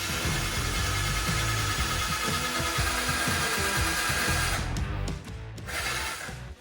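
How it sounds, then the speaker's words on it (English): A power drill with a dull bit grinds into thick fiberglass on a 1965 Ford body, a loud continuous whirring buzz with a rough chattering texture that drops off and restarts briefly near the end. "It should be safe to use just to drill out this fiberglass."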